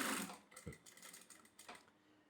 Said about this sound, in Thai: นี่ผมจะมาลองเย็บ ให้ทุกท่านได้ เห็นกับตาเลยว่า มัน เย็บได้ไหมนะครับ